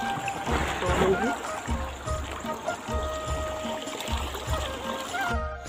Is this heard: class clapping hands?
no